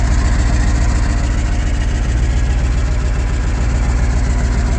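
Just after starting, a smoking engine settles into a steady idle, a loud close low rumble with an even, pulsing rhythm running alone throughout.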